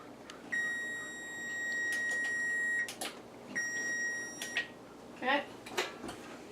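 An oven timer sounds two sustained electronic beeps, each lasting a couple of seconds, followed by kitchen clatter and a brief voice.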